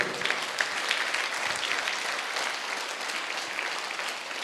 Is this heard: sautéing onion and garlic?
no